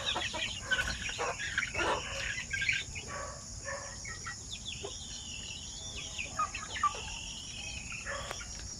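Chickens cluck and chatter in a group nearby, with repeated short calls and clucks over a steady high background hum.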